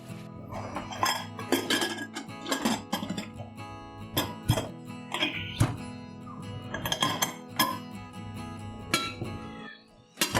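A pressure cooker is shut with its lid over Konkani-style mutton with cashews, giving a string of sharp metallic clinks and clatters spread over about ten seconds, close by, with no talking.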